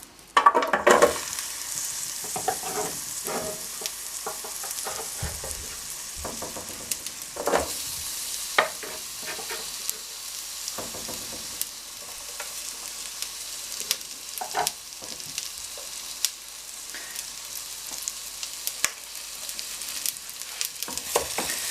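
Chopped onions frying in butter in a pan on the stove give a continuous, bright sizzle, broken by frequent scraping and tapping as they are stirred, with no talking.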